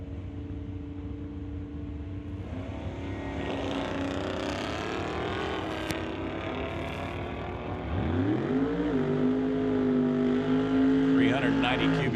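A station wagon and an AMX launch down the strip at an NHRA Summit ET Series drag race. Engines rev and roar, and one rises sharply near the end, under a race announcer's continuous commentary.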